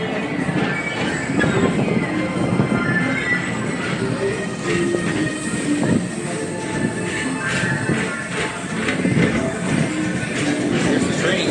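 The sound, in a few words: train passing at Disney's Magic Kingdom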